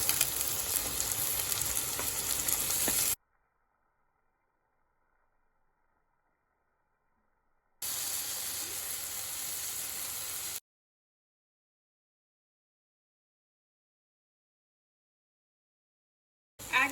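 Vegetables sizzle in a hot pan for Schezwan fried rice, a close, steady frying hiss heard in two separate stretches with silence between them.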